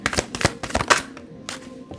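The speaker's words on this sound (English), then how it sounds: "One more shuffle. I'm dropping cards and stuff." A deck of tarot cards is shuffled by hand, giving a series of quick, close riffling and slapping bursts in an irregular rhythm, ending with a couple of isolated taps.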